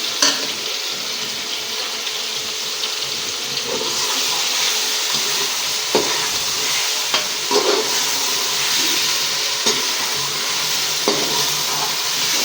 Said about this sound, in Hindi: ताकि चिकन फ्राई हो जाए।